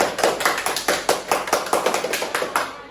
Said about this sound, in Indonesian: Oke, balik tepuk tangannya buat kakak Devi.